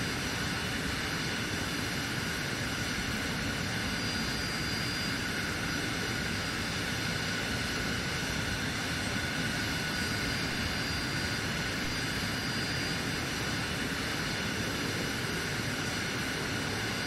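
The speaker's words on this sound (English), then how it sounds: "It's a matter of taxiing around the outside here." A steady, unbroken engine roar fills the scene as an aircraft taxis in the video game Arma Reforger, built on the Enfusion engine. The drone holds constant and loud throughout, with no talking.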